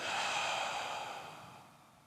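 A slow, soft exhale during a yogic breathing exercise, a single airy breath that fades gradually, close and quiet.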